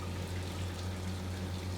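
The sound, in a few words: water running from RV fixture tap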